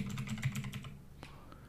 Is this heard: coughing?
no